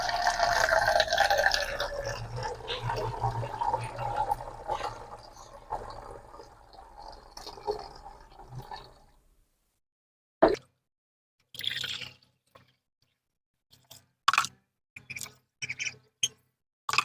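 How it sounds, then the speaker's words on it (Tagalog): Water pours into a container in a continuous, moderately loud stream for several seconds, then stops, leaving scattered isolated drips and small knocks amid silence; no one speaks. "lagyan na natin ng tubig"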